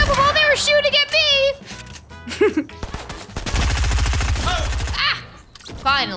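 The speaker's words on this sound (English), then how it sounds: "I've never shot someone while they were shooting at me!" Rapid gunfire from a Fortnite match rattles in a loud burst mid-clip, surrounded by excited shouting and a voice talking over the action.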